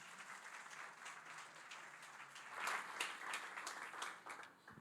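Church congregation applauding at moderate distance, a steady patter of many hands that swells briefly in the middle and then settles, with no talking.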